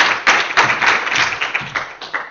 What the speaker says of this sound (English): Please give a round of applause for Geert-Johan.